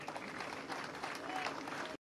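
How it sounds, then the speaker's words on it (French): Crowd applause at a World Tourism Day ceremony, a steady, fairly distant wash of many people clapping and cheering that cuts off abruptly. "Et je vous prie de l'applaudir très très fort."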